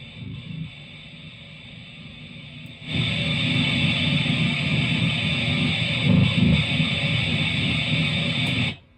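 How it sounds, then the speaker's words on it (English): A heavy, distorted pitched-down electric guitar chord crashes in after a quiet start and rings out thick and sustained for several seconds before cutting off. "That tone is very heavy, and that is the pitch down guitar"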